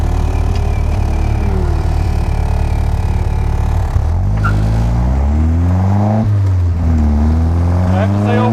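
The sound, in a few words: Locost 7 car test drive after T5 transmission rebuild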